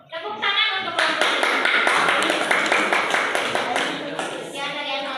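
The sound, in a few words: classroom applause for group 4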